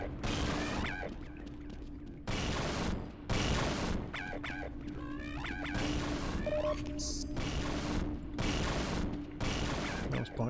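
Rapid bursts of gunfire from the Half-Life video game ring out in several loud, clustered volleys separated by brief pauses, with a steady hum and other game sounds underneath.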